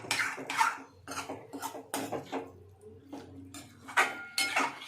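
Potatoes and peas stirred with spices, salt and a little water in a pan for a no-onion Bengali curry: repeated close scraping and clinking of a utensil against the pan in uneven bursts, no voices.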